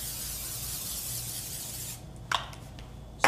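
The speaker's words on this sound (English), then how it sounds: "Spray your pan." A steady pressurized hiss of cooking spray onto a pan lasting about two seconds, then a couple of faint clicks and light taps of the can.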